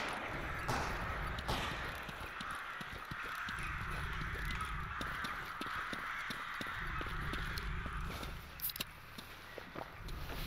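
Crows caw in a STALKER EFP game scene, repeated harsh calls scattered over several seconds alongside footsteps and clattering movement, moderately loud over a gritty background.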